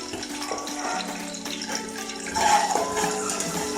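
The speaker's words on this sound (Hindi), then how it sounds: "और इसको थोड़ा सा कम करके साथ ही में पानी डाल देना।" Water is poured into a cooking pot of rice with black chickpeas, salt and dried coriander, a continuous close splashing flow that swells a little toward the end, with no voices.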